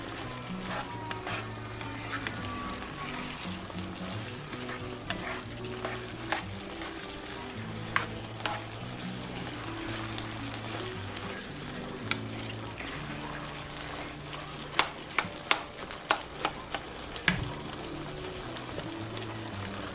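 Shepherd's pie filling with steak seasoning is stirred in a hot pan, with steady sizzling frying and repeated scraping strokes of the spoon over 20 seconds, close and continuous.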